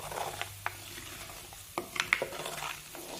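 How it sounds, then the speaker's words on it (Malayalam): Fenugreek and nigella seeds crackle in hot hair oil as it is cooked, with soft sizzling and a few sharp pops and small clicks scattered over a quiet, steady bubbling background, heard close with no talk. "അതിനകത്ത് കിടക്കുന്ന ഉലുവായും ഈ കരിഞ്ജീരകവും പൊട്ടാൻ തുടങ്ങിയിട്ടുണ്ട്."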